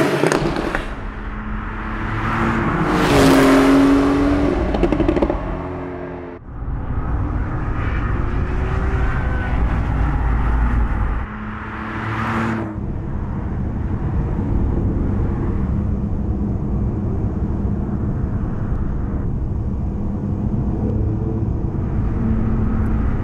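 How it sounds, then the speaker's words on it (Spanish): Porsche 911 Carrera T and 718 Cayman GTS sports car engines from 2018 start and rev outdoors in Napa Valley, California, with loud rising and falling roars followed by a sustained steady engine drone. "Ahí estamos escuchando ya que empiezan a arrancar los motores"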